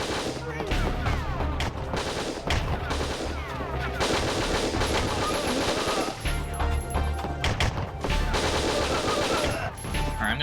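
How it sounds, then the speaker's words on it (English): Dense video game gunfire in Winback on PS3, pistol shots mixed with heavy rapid bursts and explosions over a continuous loud game soundtrack, with no letup throughout. "take him out with a pistol"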